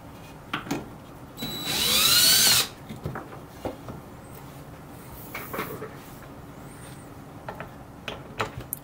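A small cordless power driver spins for about a second while backing screws out of the side pieces of a model ship, a brief whirring burst amid quiet workshop clicks and handling sounds.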